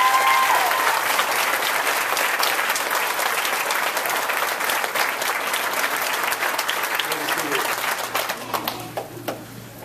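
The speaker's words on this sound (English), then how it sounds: "Let's give these folks a round of applause." Large graduation-ceremony audience applauding staff and faculty, dense steady clapping filling the hall, loud and sustained before thinning out near the end.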